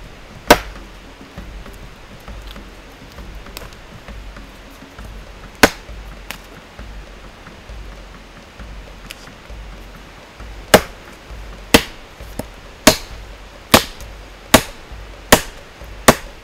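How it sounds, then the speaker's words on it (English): TOPS khukri knife chopping through a 4-inch-thick cedar piece outdoors, sharp woody impacts landing first sparsely, then in a quicker steady series of about eight strikes toward the end, each hit loud and close. "we're going to chop through this piece of cedar"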